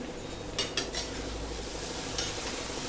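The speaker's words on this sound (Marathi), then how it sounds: "ही भाजी सगळी छान खालपासून हलवून घ्यायची" Masala okra (bhindi) is stirred from the bottom of a pan, a few soft metallic scrapes sounding over a constant hiss of frying, close by with no talk.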